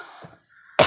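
A woman with a cold gives a single short, sharp cough close to the microphone at the very end, after a moment of faint background sound.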